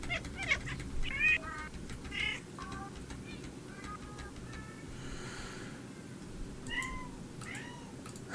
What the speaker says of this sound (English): let's first get some samples from the cats in there, as you can hear.